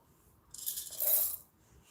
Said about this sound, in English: So now I'm going to pour it inside the bellow